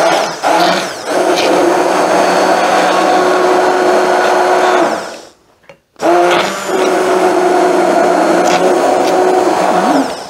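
A blender whirring loudly as it purees onion gravy until smooth, running steadily, cutting out briefly, then starting again, close and alone without talk.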